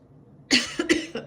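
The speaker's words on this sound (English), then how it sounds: "I hate it when readers cough and get sick and stuff" A person coughs three times in quick succession, close and fairly soft, with a quiet background hum.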